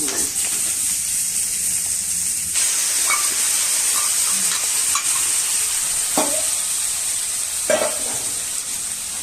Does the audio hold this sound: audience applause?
no